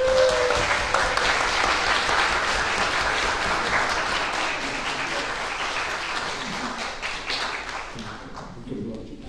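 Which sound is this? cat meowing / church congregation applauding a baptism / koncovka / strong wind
church congregation applauding a baptism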